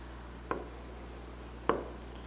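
A pen or pencil moves across paper in a quiet room, giving two brief scratching strokes a little over a second apart over faint background hum.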